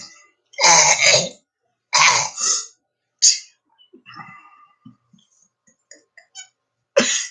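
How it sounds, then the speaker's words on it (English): A person coughs hard several times in quick bursts, then clears their throat with softer rasping sounds and a final sharp cough. "Are you done coughing and hacking and stuff?"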